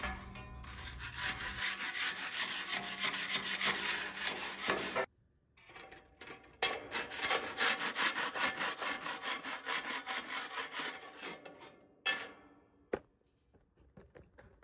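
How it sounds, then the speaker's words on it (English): A wire wheel grinds across welds on a homemade steel offset smoker, a loud, harsh scouring rasp in long sustained passes broken by short pauses, close up and with no talking. "Then I went ahead and wire wheeled every single weld that we made on the smoker."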